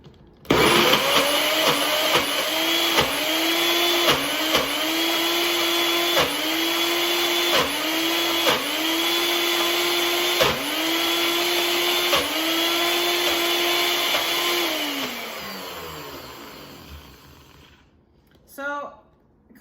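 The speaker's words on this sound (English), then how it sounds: "And we're gonna blend. It might get a little loud here." A bullet blender whirs loudly and continuously while blending homemade hummus, its motor drone broken by regular pulsing bumps, then winds down near the end, leaving a brief rattle.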